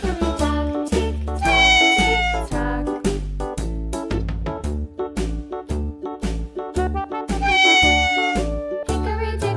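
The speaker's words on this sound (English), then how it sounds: "It's a cat." A cartoon cat meows repeatedly in a children's drawing program, the tonal cries mixed with busy musical accompaniment throughout, loud and close with no speech.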